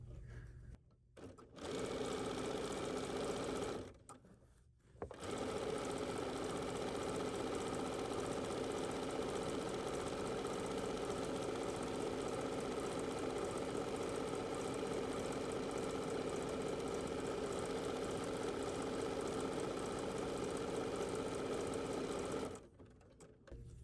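A sewing machine stitches steadily while couching a cord with #22 and #25 couching feet, running loud and continuous for about twenty seconds with brief stops near the start and end.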